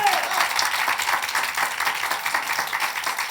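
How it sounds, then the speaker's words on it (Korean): A church congregation applauding during a Sunday morning worship service, producing dense, continuous clapping from many people that carries at an even level throughout. "먼저 우리 하나님께 박수의 영광 돌리겠습니다"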